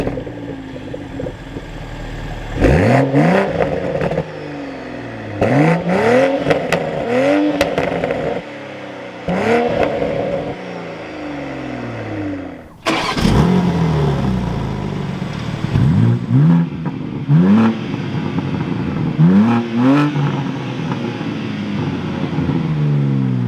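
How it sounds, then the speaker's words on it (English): A 2023 BMW M2 and a 2023 Toyota Supra, both manual sports cars, start up in turn and rev in sport mode, each start followed by several sharp, loud revs that swell and fall back, with brief pauses between bursts. "let's start them up. Hear a quick rev in the sport modes on each car"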